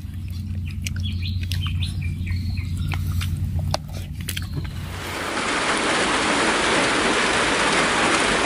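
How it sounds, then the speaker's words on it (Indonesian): Heavy rain pouring down during a big flood while catching snakehead fish, building from scattered chirps and patter into a dense, loud, steady downpour that fills the last few seconds. "Hujannya bertubi-tubi nih guys ya."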